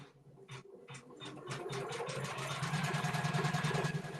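An embroidery machine stitches a design on a faux leather pouch, starting with a few spaced needle thumps and then settling into a close, steady, rapid mechanical chatter that builds in loudness, with no speech.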